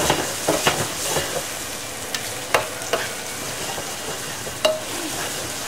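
Food sizzles and fries steadily in a pan while onions and crab brown, a continuous crackling hiss broken by a few sharp stirring scrapes and clanks close by.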